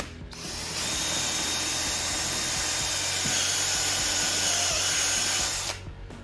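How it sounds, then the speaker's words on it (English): A power drill whines steadily as a step drill bit grinds a hole through material for several seconds, starting and stopping abruptly. "by using a step drill bit, that's what I use, a step drill bit"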